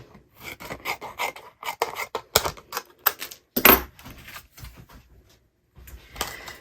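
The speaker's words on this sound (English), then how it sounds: "So I will just cut off the excess." Excess foil sheet is trimmed off during a paper-crafting project, giving close, dry, rasping cutting strokes in short bursts with brief pauses between them.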